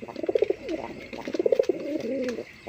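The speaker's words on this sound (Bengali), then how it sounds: "বন্ধুরা এখানে একজোড়া পুরান জাতের রাসগোল্লা কবুতর" A pair of old-breed Rasgolla pigeons coo in repeated rolling phrases, close and fairly loud, with two bursts of cooing separated by a short pause and no talking.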